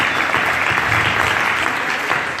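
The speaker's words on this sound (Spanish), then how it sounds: "Así que le damos un fuerte aplauso" A church congregation claps in a dense, sustained round of applause, loud and even throughout with no pauses.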